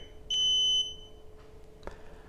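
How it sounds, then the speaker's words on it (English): A homemade smart relay keypad sounds a sharp, loud electronic buzzer warning after a wrong PIN code is entered, one sustained high beep of about half a second followed by faint clicks. "If you enter wrong pin code, buzzer starts warning like you hear."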